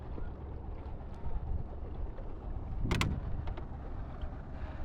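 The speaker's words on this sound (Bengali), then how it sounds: "বাদামে চলতে আছে নৌকা, সুন্দর ভালোই চলতে আছে" Quiet water and wind noise from a sailboat gliding along the Kala Badar river near Barisal, Bangladesh, with soft gusts buffeting the microphone and a brief louder splash or knock midway.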